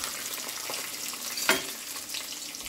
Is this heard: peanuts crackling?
yes